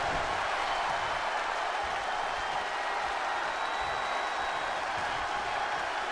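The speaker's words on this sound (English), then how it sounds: "See the crowd chanting along, cheering for the New Day." Arena crowd in the WWE 2K20 wrestling video game cheering and chanting for a tag team during a match, a steady, dense wash of crowd noise holding at even loudness throughout with no distinct voices standing out.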